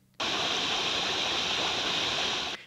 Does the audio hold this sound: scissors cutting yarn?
no